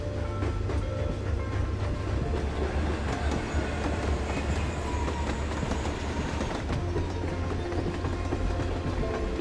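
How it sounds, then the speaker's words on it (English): Train rolling along rails in Life Is Strange: Before The Storm, a continuous rumble with clickety-clack wheel rhythm and faint squeals, steady and close for the whole stretch. "There's that train I almost got hit by."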